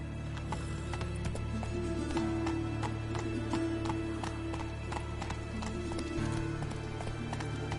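Roach, a horse in The Witcher video game, gallops with a steady, rapid clip-clop of hooves close by, accompanied by faint creaking tack, continuous and without speech.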